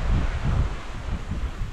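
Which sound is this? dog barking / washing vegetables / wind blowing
wind blowing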